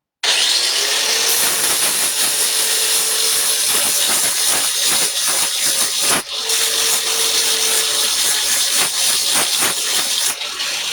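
Burrs are ground off the back of a metal piece with a loud, close, continuous abrasive hiss that stays steady for the whole stretch and shows small rhythmic pulses. No one speaks.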